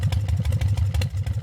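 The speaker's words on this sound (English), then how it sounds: "So that's just the engine." Edited engine sound effect for a Scratch game, a steady low motor rumble with a pulsing, clattery idle rhythm throughout, loud and close.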